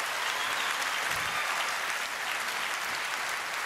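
Comedy club audience applauding during a stand-up set, a continuous wash of clapping at moderate distance that holds steady and even for the whole stretch.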